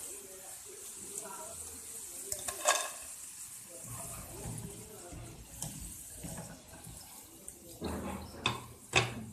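Potato sticks sizzle softly in hot oil with a steady crackling hiss, punctuated by clinks and stirring scrapes of a utensil; a voice talks faintly underneath.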